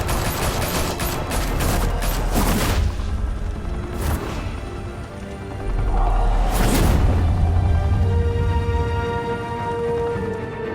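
Gunfire in a Batman video game: rapid volleys of shots ring out, then a few heavier isolated blasts and crashes follow amid a loud rumbling backdrop.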